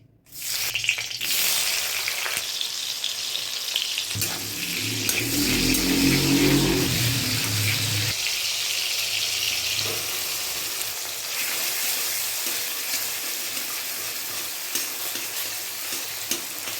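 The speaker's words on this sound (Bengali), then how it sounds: "কড়াইতে তেল দিয়ে দিয়েছি, এবার দুটো তেজপাতা দিয়ে দিচ্ছি।" Bay leaves sizzling in hot oil in a kadai while paneer aloo dum is cooked, a steady close fry with stirring and a louder surge of bubbling partway through.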